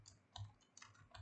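A few light keystrokes on a computer keyboard, quiet, soft clicks spaced irregularly over a second with a faint hum underneath.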